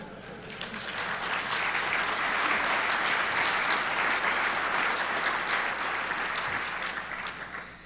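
A crowd at a DEF CON 19 hacking conference talk gives a long, full round of applause that swells, holds steady and then fades.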